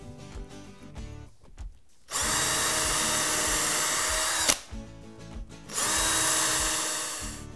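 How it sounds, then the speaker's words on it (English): A power drill pre-drills holes into a wooden workbench for mounting bench jaws, with two loud sustained whining bursts separated by pauses and small clicks, close and alone. "now we're ready to pre-drill our holes"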